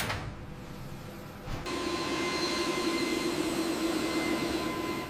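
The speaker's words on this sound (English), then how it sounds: "the cargo door closes and the plane prepares for departure." Steady whine and hum of a cargo airplane's engines idling nearby as it prepares for departure, the roar stepping up slightly partway through and holding constant.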